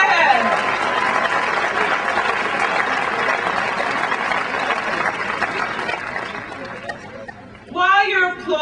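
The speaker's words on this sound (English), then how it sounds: "You can applaud yourself." A graduation audience at Wesleyan University breaks into sustained, loud applause filling the hall, steady for several seconds before tapering off, then a voice speaks briefly near the end.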